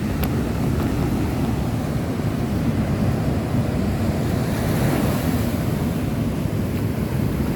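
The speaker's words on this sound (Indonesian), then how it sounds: "kayaknya ombaknya kecil juga nggak berbahaya" Ocean surf rolls steadily onto a beach at a fishing spot where the waves are small, a continuous wash of breaking water with wind buffeting the microphone, loud and close throughout with no voices.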